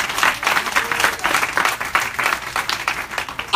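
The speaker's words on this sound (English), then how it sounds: "I thought you'd clap your hands for Jesus." A church congregation applauds at a revival service, giving loud, dense hand clapping in uneven surges throughout.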